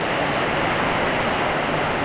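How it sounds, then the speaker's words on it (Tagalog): Heavy rain pours down on a hut in the Philippines during a storm, a dense, loud and constant roar of broadband noise throughout with no talking. "Eh biglang lumakas ang ulan."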